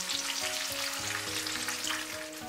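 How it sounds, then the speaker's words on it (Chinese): Lotus root snacks deep-frying in hot oil over high heat, a dense, steady sizzle and crackle that fills the whole stretch at close range with no talk. "快出锅的时候，我们一定要转大火，给它速炸30秒"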